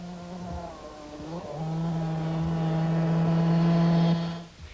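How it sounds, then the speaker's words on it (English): Winston Yamaha race motorcycle at the 1991 Mmabatho Sun 500, held at full throttle: a steady, loud engine drone that rises in pitch and holds a high sustained note before cutting off near the end. "The fact that the Winston Yamaha was bucking all over the place did not deter Mmabatho Sun."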